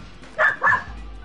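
Two quick, sharp dog barks ring out close together at mid-volume, standing out over a low background hum.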